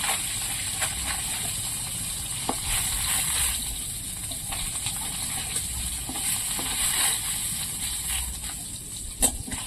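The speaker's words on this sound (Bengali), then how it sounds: "আর বাকি মাছটা এইভাবে ভেজে নেবো।" Small parshe fish sizzle in hot oil in a pan, a steady crackling fry with occasional sharp pops and clinks, fairly close and continuous without talking.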